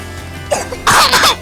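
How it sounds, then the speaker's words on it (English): A child gives a single strong, forceful cough, preceded by a short breathy throat sound, close up with no talking. "Can you show everybody a good cough?"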